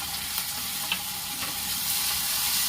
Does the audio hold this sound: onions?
yes